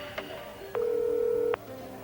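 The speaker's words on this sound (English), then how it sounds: "I dialed my own number." A telephone number being dialed, a short tone and click, then one steady tone held for almost a second before cutting off, clear and fairly loud with no one speaking.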